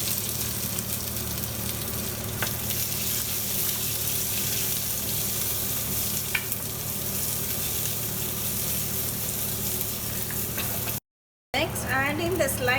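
Sliced onion frying in a hot pan, a soft steady sizzle with faint crackles running throughout, briefly cut off near the end before resuming.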